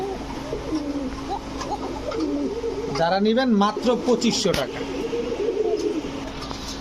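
Pigeons coo in repeated soft, warbling calls close by, one rising burst standing out midway, while someone talks over them throughout.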